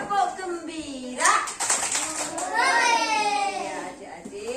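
Young children in a kindergarten class perform the tepuk gembira rhythmic clapping chant. Their high voices rise and fall in sing-song phrases, and short claps mark the beat, all up close.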